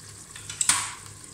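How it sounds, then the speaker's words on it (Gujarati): Vegetables for Kathiyawadi undhiyu, including suran yam and carrots, are stirred in a frying pan, giving a soft steady sizzle with a brief louder scrape partway through. "બધું નાખતા જશું અને હલાવતા જશું"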